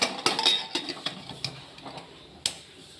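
Metal clatter of a pressure cooker lid being fitted over moong dal, with several sharp clinks and taps spread across a few seconds, close and fairly quiet.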